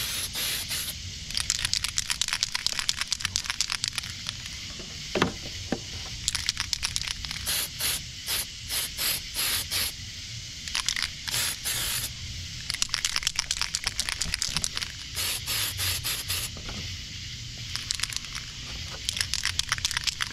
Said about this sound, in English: I'm going to spray it, make sure it's spraying good.